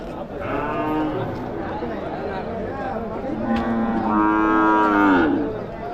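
Several cattle from Andhra moo loudly in long drawn-out calls at the open cattle market in Vaniyambadi, overlapping amid a busy crowd murmur and people talking nearby.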